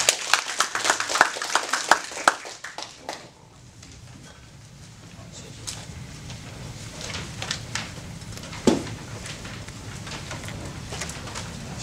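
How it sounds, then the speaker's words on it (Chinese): Audience applause welcoming a lecturer, Academician Li, before a talk on Taiwan's Austronesian languages. A dense burst of clapping fills the first three seconds, then thins to scattered claps over quiet room noise. "让我们以热烈掌声欢迎李老师"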